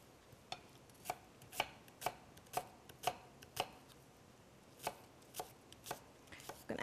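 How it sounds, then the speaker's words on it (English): An onion being chopped on a cutting board, a dozen or so crisp knife strikes at an uneven, unhurried pace, close and clear over a quiet background, no voices. "I've got one onion that I'm gonna chop up"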